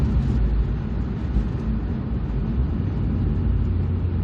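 A 2003 MG ZR Express van with a 1.8 engine lacking the VVC system, heard from inside while driving as a steady low engine drone and road rumble, even in level with no other sounds.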